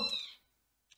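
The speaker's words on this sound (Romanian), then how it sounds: "Mamă, ce miau de pisici." A cat gives one short, loud meow that quickly fades, followed by a faint tap near the end; no one speaks.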